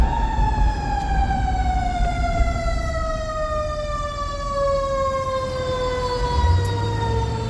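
A fire engine siren wails steadily and loudly throughout, its falling tone carrying over road rumble during a ride-along on a fire apparatus, with a low engine surge near the end.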